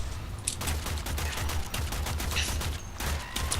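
Shotguns and other weapons fire in dense bursts in the video game Warframe, a continuous barrage of cracks and booms over a rumbling game soundtrack.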